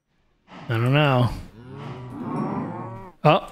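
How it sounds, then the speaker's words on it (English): Cows in a farming video game give two drawn-out moos, the first loud and rising, the second lower and longer, followed by a short clipped call at the end, heard alone and close. "That was the sound of cows dying."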